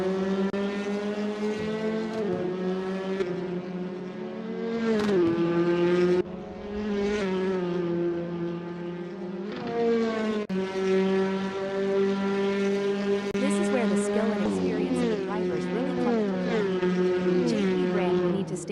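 Touring race cars in a racing game scream past with high revving engines, pitches sweeping up and down through gear changes as several cars pass close.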